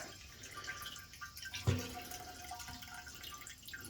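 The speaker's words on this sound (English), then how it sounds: "Let most of that fuel drain off so we don't make too big of a mess" Diesel fuel drains from an old Caterpillar D4 fuel tank, a faint liquid trickle and dripping with one louder splash partway through.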